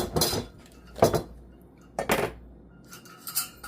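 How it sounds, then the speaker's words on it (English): Metal measuring cups clink and scrape together in three or four sharp bursts, close up, with short quiet gaps between. "Using these metal cups, and they're so noisy."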